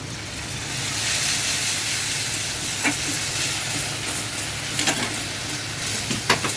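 Ginger, garlic and green chili paste hits fried onions in a pan, giving a steady, close sizzle and hiss throughout with a few brief clinks of stirring near the end.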